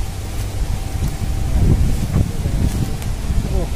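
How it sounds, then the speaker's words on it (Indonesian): Strong wind blowing outdoors at a sacred burial site among trees, a loud continuous low rumbling buffet against the microphone with rustling, while a voice speaks faintly underneath. "Anginnya sangat kencang sekali ya."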